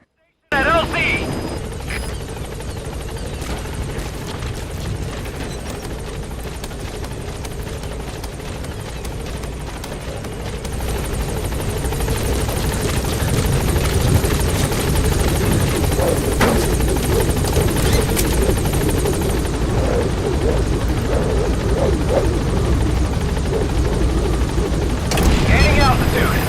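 Helicopter in Metal Gear Solid V arriving at a landing zone and lifting off, a loud steady rotor roar and engine whine filling the scene and swelling as it gains altitude.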